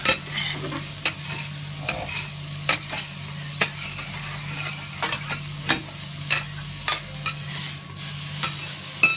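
Salted, peppered meat being stir-fried in a pan, with a constant sizzle and regular scraping stir strokes every second or so, close and clear, with almost no talk.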